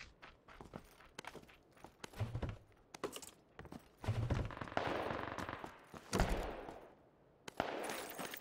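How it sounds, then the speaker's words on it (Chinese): Rifle gunfire in the video game PUBG: a string of sharp, irregular shots, some single and some in quick bursts, with clattering thuds between them and no voices. "哎呦，步枪呀！"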